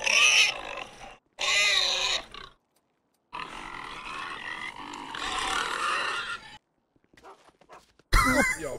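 Pigs in a video game grunt and squeal in several loud bursts separated by short silences, with rough, throaty snorts near the listener.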